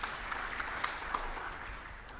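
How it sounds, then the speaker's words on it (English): Audience clapping at a sports career fair and symposium in Nairobi, a steady patter of many hands with a few sharper individual claps standing out, moderately distant. "Let's clap for Brian"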